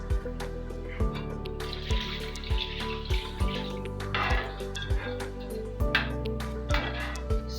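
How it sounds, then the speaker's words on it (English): Water pours in a steady stream into a pot of chicken curry sauce, with sloshing and splashing, while a rhythmic thumping beat plays throughout at a moderate level. "So I'm going to add more water into it."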